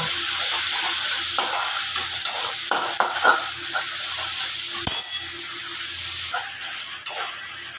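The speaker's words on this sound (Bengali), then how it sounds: "এবার মশলাটাকে খুব ভালোভাবে কষিয়ে নেব" Spice masala frying in a pan gives a steady, fairly loud sizzle, punctuated by scraping stirs and a few sharp knocks of a spoon against the metal, with no speech.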